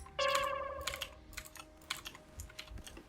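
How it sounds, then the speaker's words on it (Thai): Computer keyboard typing during a PC game session, a quick close patter of key clicks over a faint steady tone, no voices. "ถ้าเสียงแป้นพิมพ์ดังก็ต้องขออภัยด้วยนะครับ"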